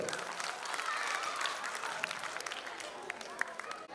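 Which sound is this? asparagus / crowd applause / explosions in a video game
crowd applause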